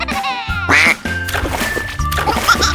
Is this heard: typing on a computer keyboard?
no